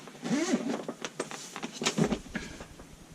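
A zipper on a carry case for a NOCO Boost HD GB70 jump pack being drawn in a series of quick, scratchy pulls, close by and fairly soft, with light rustling of fabric.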